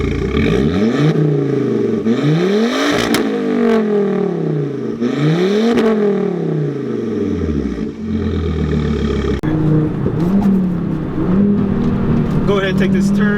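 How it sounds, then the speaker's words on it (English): A 2004 Volvo S60 R with an all-wheel-drive, turbocharged inline-five pulls hard, its exhaust note climbing in repeated loud revving sweeps with gear changes. The rise cuts off, and a steadier rumbling drone of cruising follows. "just getting on the power here, just really tons of power with the exhaust note that you have right here"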